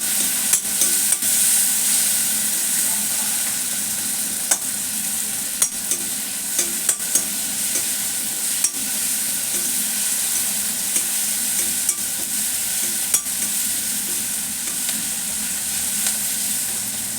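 Curry leaves and spice powder fry in oil in a pan for millet khichdi, giving a steady, close sizzle dotted with sharp pops and spatula clicks throughout.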